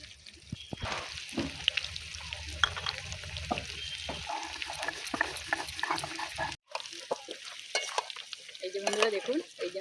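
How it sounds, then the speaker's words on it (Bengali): Potato pieces fry in hot oil for a Bengali Kashmiri aloo dum, a close crackling sizzle with stirring clatter and brief pauses, a voice talking over parts of it. "লাল লাল করে আলুগুলো ভেজে নিয়েছি"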